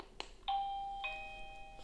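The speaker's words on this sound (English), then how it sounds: "So let's press the bell button" An XTU J10 video doorbell sounds its chime after its bell button is pressed: a click, then two clear electronic tones in a ding-dong pattern that ring on and fade, close and fairly quiet.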